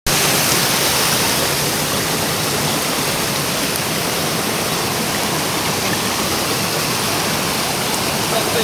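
Water in a creek rushes steadily as a dense, even hiss and roar, close and continuous throughout with no talk.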